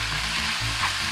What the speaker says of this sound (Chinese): 这样翻炒到它冒热气。